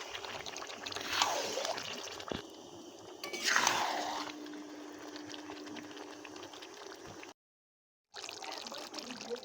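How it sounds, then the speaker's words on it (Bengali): Water splashing and pouring into a pot of mutton curry in a home kitchen, after a plate of leftover spice paste is rinsed out, with two brief bursts of pouring and a low background hum, then a short gap. "থালার মধ্যে যে মশলাটা লেগেছিল সেটা ধুয়ে জলটা দিয়ে দেব"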